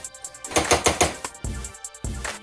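A spatula chops and breaks up a thick vegan mac and cheese mixture in a pan, giving a close series of soft, irregular knocking and scraping strokes with short pauses between them.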